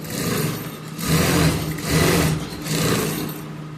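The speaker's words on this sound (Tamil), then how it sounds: "இதுக்கு வந்து ஒரு எட்ஜு தையல் போட்டுக்கலாம்." A sewing machine runs an edge seam on a blouse in three or four steady bursts of whirring stitching, separated by short pauses, close and clear with no talk.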